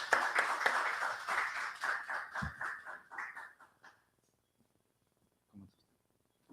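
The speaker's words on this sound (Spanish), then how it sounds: "Un fuerte aplauso para él." Applause from a crowd welcoming a speaker at an Economist's Day event, loud at first and then thinning into scattered claps that die away into near silence.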